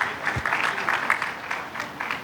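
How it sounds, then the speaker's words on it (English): Applause for a guest brought onto the stage at a CREDAI-MCHI real estate event, a steady patter of clapping hands filling the room for a couple of seconds with no talk over it. "A round of applause, please."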